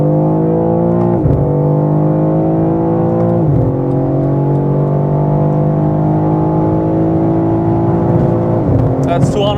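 A tuned BMW M3 Touring pulls hard at full throttle on the Autobahn, its engine note climbing steadily through the gears with brief dips at each upshift, loud and continuous with wind and road roar beneath.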